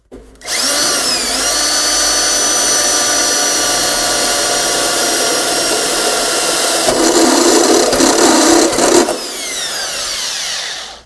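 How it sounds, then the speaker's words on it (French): A power drill bores a hole for a 75-litre APLAST grey-water tank fitted in a van conversion, a loud steady whine running nearly the whole time, with a rougher, grinding stretch near the end before it winds down. "Perçage."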